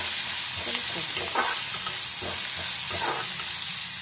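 Dosa batter with green chillies and coriander being mixed in a bowl: continuous wet squelching and swishing, close and fairly loud, with no talking.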